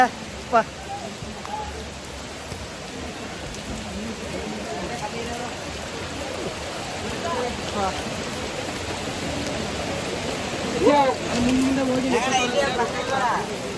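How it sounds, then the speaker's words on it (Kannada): Steady rain hisses across the whole clip at Kottiyoor temple, with voices and some shuffling mixed in over it. "ಫುಲ್ಲು ಮಳೆ ಬರ್ತಿದೆ"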